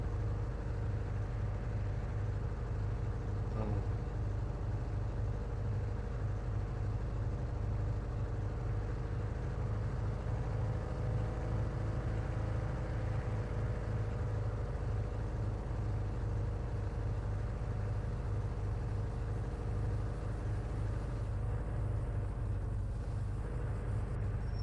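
A car engine idles steadily in a video game with a radio station setting, a low continuous rumble that holds level throughout with no pauses or rhythm changes.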